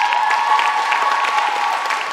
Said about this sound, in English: Big applause for Kat.